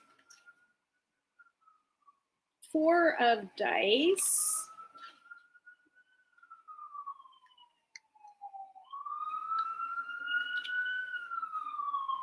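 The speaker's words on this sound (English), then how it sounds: "we have a siren going off in the background too" A siren wails and swoops steadily in the distance, rising and falling for several seconds, while a person talks briefly over it.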